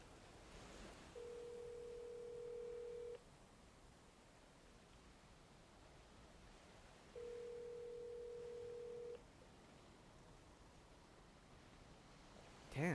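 A telephone rings unanswered, two long, steady, moderately loud ring tones separated by several seconds of quiet line hiss, with no one picking up.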